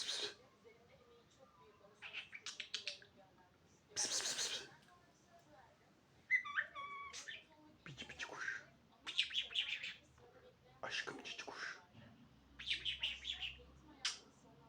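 A pet budgerigar chirps and warbles in bright, short bursts at close range, with a person speaking and calling to it between and over the calls.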